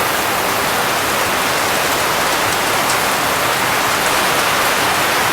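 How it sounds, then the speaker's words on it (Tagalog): Steady, dense roar of heavy rain pouring down without letup, loud and close, with no voices. "Ganyan alakas ng ulan,"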